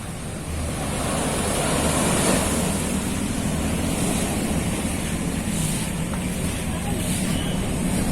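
Seawater surges in over a sandy wetland shore during a high tide, a steady broad wash of water with wind buffeting the microphone, continuous and fairly close.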